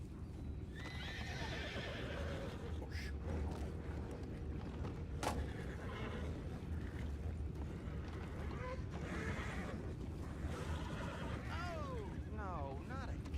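Horses in the video game Red Dead Redemption 2 neigh and whinny with hooves clopping, set against a quiet ambient bed, with a couple of sharp whinnies near the end.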